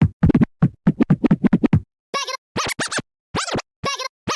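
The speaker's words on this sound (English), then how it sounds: "Wave Traveler is a vinyl scratch simulator, creating scratch sounds on whatever you put into it." Vinyl scratch effects from the Wave Traveler scratch simulator plugin in FL Studio: a rapid run of short choppy scratches followed by several longer, pitch-swept scratched bursts, loud and close with no other sound.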